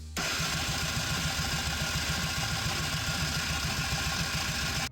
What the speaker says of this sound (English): you're just going to crank with the spark plug out